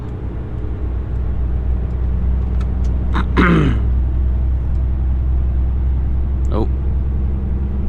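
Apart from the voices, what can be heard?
HGV lorry engine accelerating in low gear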